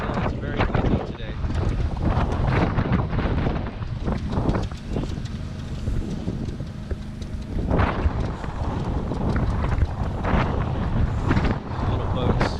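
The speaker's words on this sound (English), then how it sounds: "it's very windy today" Strong wind buffets the microphone on the coast at Whitby, a constant loud roar filling the whole stretch with gusts rising and falling.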